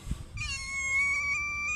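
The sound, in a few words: cat meowing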